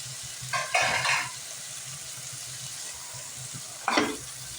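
Veg biryani mixture being stirred in a pan, with two short scraping, sizzling bursts of a spoon moving through the spiced mix, close by over a low steady cooking hiss.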